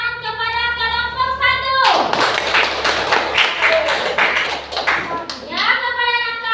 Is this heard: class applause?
yes